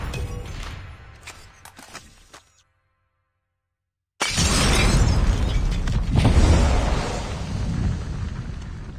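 A bomb explodes in a video game: after a short moment of dead silence, a sudden loud blast erupts and keeps roaring with rumbling, crackling debris for several seconds.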